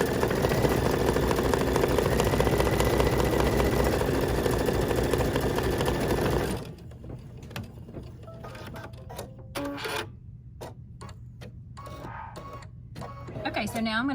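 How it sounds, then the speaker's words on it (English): Embroidery machine tacking down a small bird wing of glitter vinyl on a Kimberbell mini pillow, a loud steady mechanical whir that drops to quieter intermittent stitching clatter halfway through. "Now the machine's going to tack down the little birdie wing."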